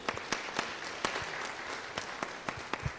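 At a Uganda website projects competition, a crowd claps for the teachers present. The applause is fairly thin, with distinct individual claps popping out over a steady background patter for the whole stretch.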